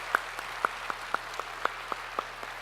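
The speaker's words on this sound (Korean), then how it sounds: "격려의 박수 주시죠" A church congregation gives encouraging applause for a member leaving to study in Germany, heard as sparse, evenly spaced claps, roughly eight over a few seconds, faint and slightly distant with a steady low hum beneath.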